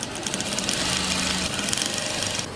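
A sewing machine runs a continuous straight seam on pre-cut fabric for a table runner, a dense, steady mechanical whir with rapid stitching pulses, fairly close and loud throughout.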